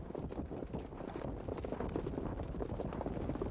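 Trotters in a harness race pound the track, a dense, fast, continuous patter of hooves that stays low and fairly faint with no talk over it.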